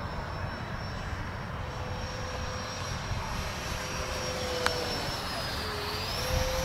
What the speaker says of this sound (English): Huh, that was a way better launch than the one out of Herman